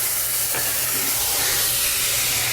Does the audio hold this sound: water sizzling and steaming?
yes